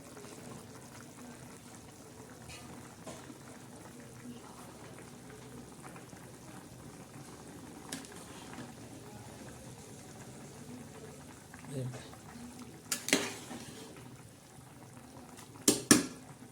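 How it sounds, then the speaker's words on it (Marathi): Moong dal boils and bubbles in a cooking pot, making a steady, soft, close bubbling texture with a few sharper pops near the end and no talking. "हे बघा कशी शिजते गदा गदा"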